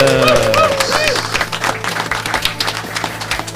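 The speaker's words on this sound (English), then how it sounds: "And a big round of applause for our awesome live audience, please." Live audience applause at the Wings Over Pittsburgh air show, scattered clapping mixed with crowd noise, cheering and outdoor rumble. The crowd is loud at first and eases off toward the end.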